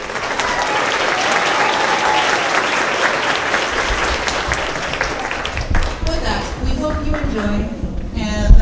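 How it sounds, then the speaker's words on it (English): Applause from a school winter concert audience in a cafeteria after a seventh-grade flute trio, a sustained dense crowd clapping that thins toward the end as talking comes through. "Please give them another round of applause."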